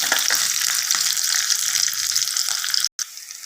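Onion and green chillies sautéing in a pan for tomato soup, giving a continuous bright sizzle with faint stirring scrapes, close and steady, with a brief dropout near the end.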